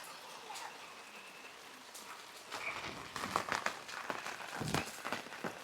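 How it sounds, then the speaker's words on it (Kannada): Steady heavy rain patters on a taut camping tent overhead, with sharper drops and bursts growing louder and denser in the second half; no voices. "ಎಷ್ಟು ಮಳೆ ಬರ್ತಿದೆ ಅಂದರೆ ಹೆವಿ ಮಳೆ ಹೊಡಿತಿದೆ."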